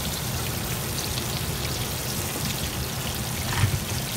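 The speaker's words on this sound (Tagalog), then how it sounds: "So, pwede po natin siyang lagyan ng tubig, boiling water." Boiling water poured into a pan of fish fillet with sautéed tomatoes, a steady splashing, trickling wash that runs unbroken for several seconds with a slight surge near the end.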